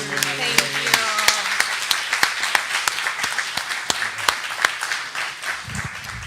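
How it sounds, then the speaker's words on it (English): An audience at the 2022 Spellebration honoree ceremony applauds in a steady patter of many hands, with sharp individual claps standing out; a voice speaks briefly at the start. "let's give all of our recipients, honorees, another round of applause"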